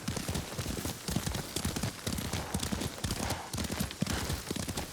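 Horse hooves from the video game Ghost of Tsushima: a steady, quick clip-clop of a ridden horse over a soft, rain-like hiss, continuous and fairly close.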